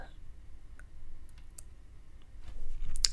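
A few light, scattered keystrokes on a computer keyboard while typing a terminal command, faint and close, with quiet gaps between taps.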